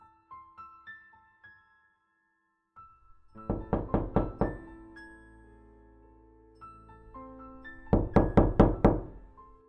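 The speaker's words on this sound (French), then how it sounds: "Depuis combien de temps toquait-on à la porte ?" Knocking on a door sounds as two bursts of several quick, hard raps, clear and fairly close, set against a soft musical background in a French audiobook.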